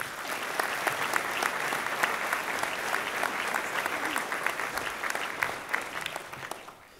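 Sustained audience applause welcoming a commencement speaker at a Master of Science in Technology Commercialization spring graduation, dense steady clapping from a large crowd that tapers off toward the end.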